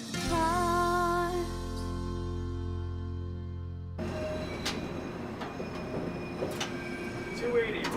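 A Toronto Transit Commission subway train rolls toward a tunnel portal, a low steady rumble with rail clatter and sharp metallic clanks, while a voice is heard over it.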